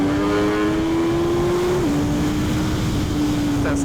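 A Suzuki Hayabusa motorcycle pulls hard under acceleration, its engine note holding steady and loud, then stepping down briefly at a gear change before climbing on, close and continuous with rushing wind throughout.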